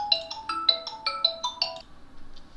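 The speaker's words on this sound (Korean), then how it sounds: "전화가 와서 잠깐 멈췄어요" An incoming phone call sets off a melodic electronic ringtone, a bright run of quick chiming notes that plays close and alone for about two seconds before stopping.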